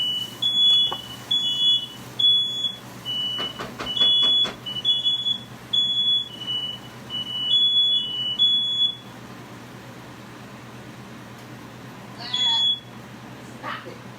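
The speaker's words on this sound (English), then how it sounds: "it's the smoke from the stove that's kicking off this alarm" A kitchen smoke alarm, set off by smoke from a stove during cooking, shrills in a rapid, piercing repeated beeping for about nine seconds. A brief chirp follows later, with faint kitchen noise underneath.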